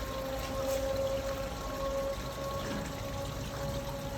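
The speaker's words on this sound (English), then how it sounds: "Water from upper sluice drains into lower sluice." Water drains from an upper sluice into a lower sluice in a pyramid-construction sluice setup, a steady, continuous rushing wash close by with no voices over it.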